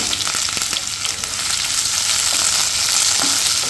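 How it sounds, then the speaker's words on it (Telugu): Chopped onions are added to garlic already frying in a pan, producing a loud, close, continuous sizzle with a few stirring scrapes. "ఇప్పుడు మనం కట్ చేసి పెట్టుకున్న ఆనియన్స్ వేసేసుకున్నాం."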